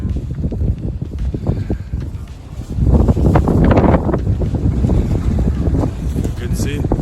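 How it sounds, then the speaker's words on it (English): Strong gusts buffet the microphone on a cold mountaintop, roaring in uneven surges that build loudly midway and stay heavy, with no clear voices. "Sun is out, it's windy."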